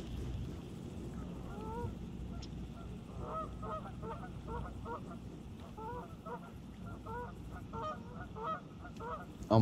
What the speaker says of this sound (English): Oh my god, these geese, dude.